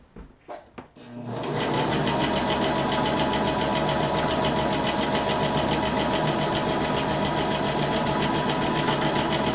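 A sewing machine stitches a pillow, starting with a few soft handling knocks and then settling into a fast, even, continuous mechanical whir close by that holds steady to the end.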